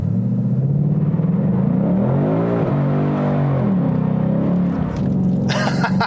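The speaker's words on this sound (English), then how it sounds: "I'm gonna see if I can get it to do a burnout." A 2018 Ford Mustang GT with the 5-liter Coyote V8 roars through a burnout, revs swelling and falling in a loud, continuous rumble, with a burst of tire hiss near the end.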